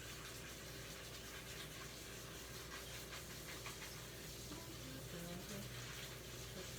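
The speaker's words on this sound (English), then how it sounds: "Clean the veggies." Tap water runs steadily into a sink while vegetables are washed, a continuous close hiss and splash with no talk over it.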